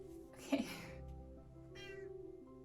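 A pet cat named Pinky gives a clear meow up close, followed by a softer second meow, in a quiet indoor room.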